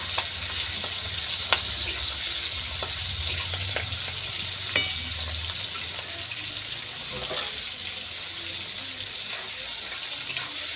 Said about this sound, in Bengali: এবার আমি দিয়ে দেবো চিংড়ি মাছ